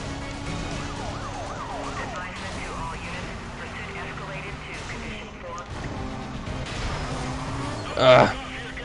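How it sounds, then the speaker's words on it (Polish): Police car sirens wail in the racing video game Need for Speed Most Wanted, several overlapping rising and falling tones over engine noise, loud and continuous, with a short burst near the end and speech in the game. "O, są następne radiowozy."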